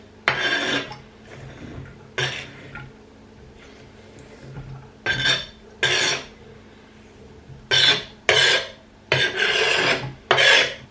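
Food scraped into a saucepan on a home kitchen hob, with several short rasping scrapes and rubs of utensil against pan in uneven bursts separated by quieter pauses.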